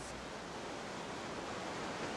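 A steady, dense roar of heavy water from the Great Falls of the Passaic River in Paterson, plunging over 70 feet down a cliff, heard as an even, unbroken wash of noise with no voices.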